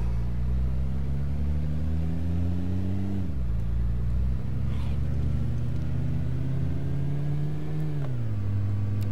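A car engine drones steadily while driving in State of Decay Lifeline, its low hum shifting pitch with two clear drops as gears change or the throttle eases, close and continuous.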